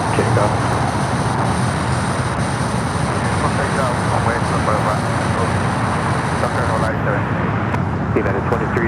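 An airliner takes off from runway 25 right at Los Angeles International Airport, a steady broadband engine roar holding loud throughout, with a radio voice heard over it.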